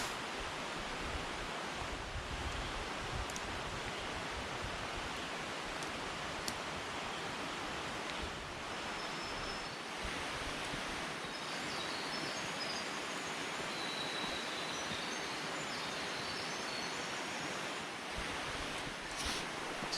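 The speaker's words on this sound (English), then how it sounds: "There's a little waterfall coming off of it." Small waterfall spilling over an old stream dam built from a piece of railroad track, a steady broadband rush of falling water heard close and continuous throughout, with no voices.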